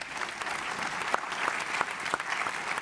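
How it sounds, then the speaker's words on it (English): A forum audience applauds its panelists: a continuous room-filling patter of clapping with a few sharper individual claps standing out, steady for a few seconds. "A round of applause to all of our panelists,"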